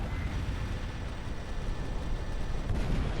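Thermal barrage weapon fire from the Final Theory video game, a dense continuous rumble of rapid explosive impacts and gunfire, loud and steady throughout with no talking.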